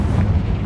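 A Confringo fire spell blast in Hogwarts Legacy, a short, loud, booming burst with a deep rumble that holds steady through the brief moment, close up and alone.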